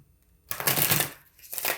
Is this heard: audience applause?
no